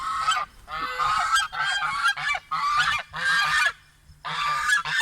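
Guinea geese honk repeatedly in loud, harsh bursts separated by short gaps, close by and with no voices.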